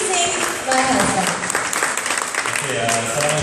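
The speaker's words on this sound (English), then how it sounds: "A big round of applause once again, ladies and gentlemen, introducing myHazman." Audience applause for a speaker taking the stage at a charity community event, a steady wash of clapping from many hands throughout, with a voice speaking over it.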